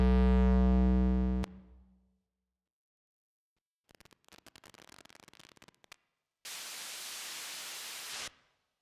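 A no-input mixing board with a loosely plugged cable gives a loud sustained tone that cuts off, then crackling static bursts and a band of harsh hiss, all without talking.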